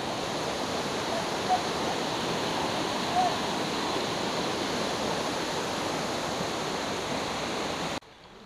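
A waterfall along a trail during the XTERRA Costa Verde trail race gives off a constant, loud rushing roar of falling water that holds steady, then drops off abruptly near the end.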